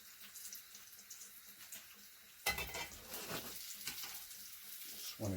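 A honey mustard BBQ-style pork chop browns in a hot pan with a faint, steady sizzle, broken midway by a sudden clatter, after which the frying sounds louder and busier.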